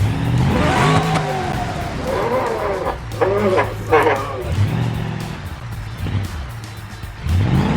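A custom-built 4x4 off-road truck with deflated tires revs its engine in loud, repeated surges that rise and fall over several seconds, with people talking over the engine noise.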